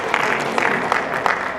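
An audience at a school closing program claps together in a short burst of applause, a dense wash of hand claps filling the room with a few sharper claps standing out, without talk.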